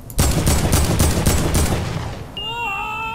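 Gunfire in Fortnite or Apex Legends, a loud rapid burst of about eight shots over two seconds, fading out and followed by a bright rising tonal game chime.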